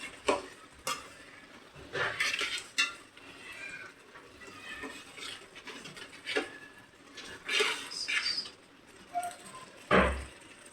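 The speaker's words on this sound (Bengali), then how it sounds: "এখন এই যে মশলা কষাইতেছি" Spice masala cooking down with chickpea lentils in a pan, soft intermittent sizzling and scattered clatters of a spoon stirring against the pan, fairly faint with quiet gaps between the louder strokes.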